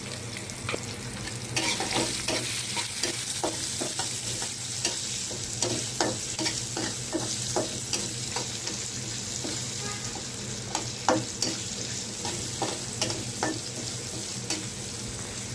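Potatoes fry in a pan with turmeric powder and a little salt, a steady close sizzle broken by frequent scraping stirs of a utensil, with no talking.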